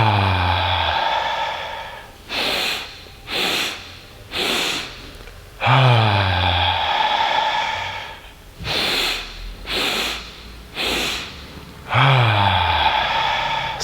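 Yogic breathwork: long, loud breaths alternate with sets of three short, sharp sniffing inhales, repeating in a steady cycle close to the mic with no talking.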